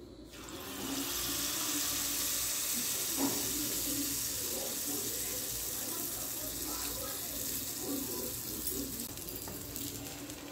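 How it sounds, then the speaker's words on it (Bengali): Malpua batter frying in hot oil, a steady broad hiss and bubbling that holds evenly throughout, fairly close, with faint intermittent clinks. "তারপর তেলটা গরম হয়ে গেছে। এবার এক এক করে ছেড়ে দেব।"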